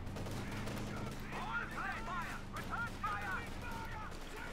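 Rifle and machine gun fire from a strategy video game battle, with bursts and single shots crackling in clusters over a low rumbling background.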